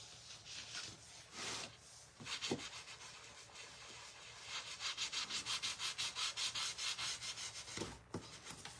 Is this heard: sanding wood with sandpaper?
yes